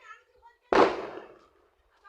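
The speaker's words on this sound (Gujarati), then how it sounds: "બોમ્બ ફૂટે છે" A single firecracker bomb bursts outdoors with a sharp, loud bang whose rumble decays over about a second; faint voices are heard before and after.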